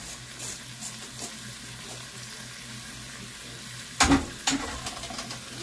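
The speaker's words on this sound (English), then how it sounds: "Now we're going to cook the spinach until it wilts down" Fresh spinach hits a pot of tortellini and sausage with a sudden burst of crackling and sizzling, after a steady low simmer with faint stirring; no one speaks.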